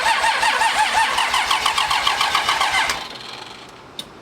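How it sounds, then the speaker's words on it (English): A pro street truck engine on a dyno, set in burnout mode, cranks with fast, loud, rhythmic pulses for about three seconds. The sound then drops off sharply, and one small click follows near the end. "I don't understand why it cranks slow initially and then it kicks up"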